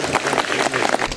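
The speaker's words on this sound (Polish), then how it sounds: "Wielkie brawa dla nich." Audience applause for historical reenactment actors, all local residents, at a community history event in Malanów: a short, steady burst of dense clapping from a crowd.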